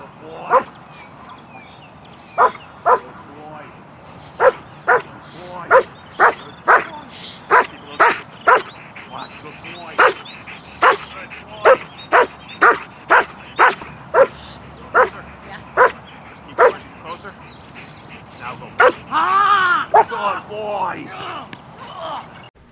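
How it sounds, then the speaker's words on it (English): A protection dog in training barks sharply and repeatedly at a stranger in public, loud regular barks spaced about a second apart, ending in a burst of excited yips and whines, with people talking in the background. "We want to see an immediate barking response, aggressive response"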